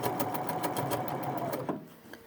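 A Bernina sewing machine stitches a blind hem in a fast, even run of mechanical clatter, close and loud, then stops abruptly near the end with a faint click or two after.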